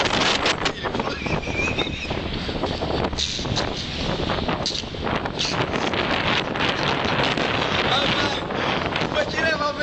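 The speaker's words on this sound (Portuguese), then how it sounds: "O vento tá forte demais aqui no pé, aqui, ó." Strong wind roars steadily across an outdoor microphone, a loud continuous buffeting rush that fills the whole clip with no pauses.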